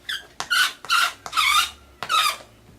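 Rubber RC rock-crawler tires with a sticky R35 compound squeak sharply on a rubber RC mat in five loud, close bursts separated by short pauses.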